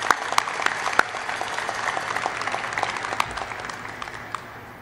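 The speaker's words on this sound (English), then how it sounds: "Please join me in a round of another applause for this shipbuilder" Sustained applause from a crowd at a shipyard keel authentication ceremony for the frigate USS Constellation (FFG 62), dense clapping with a few sharper claps standing out, gradually fading toward the end.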